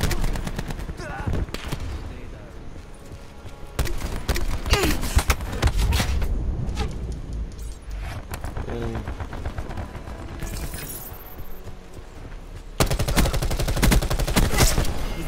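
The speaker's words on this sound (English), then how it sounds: "Throwing cluster grenade. Oh yeah, boom time." Cluster grenade blasts and heavy gunfire in the shooter Call of Duty Black Ops 4, with dense, loud, chattering bursts throughout and a final surge of rapid detonations, while a player talks briefly over the combat.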